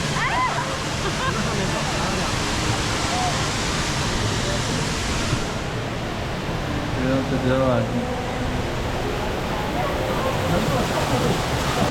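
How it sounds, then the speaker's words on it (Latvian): An indoor waterfall at Singapore's airport gives a steady, broad rushing roar of falling water throughout, with people talking over it and busy terminal bustle around. "ūdens kritums aizmugurē?"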